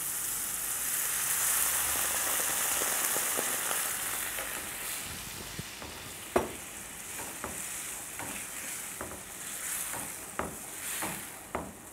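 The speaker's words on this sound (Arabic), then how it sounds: "المشروم كده تشوح التشويحه بتاعته، هنبدا نضيف الشوربه." Hot broth hits sautéed mushrooms in a pan, setting off a loud, continuous sizzle that gradually eases, with scattered sharp pops and clicks of stirring utensils throughout.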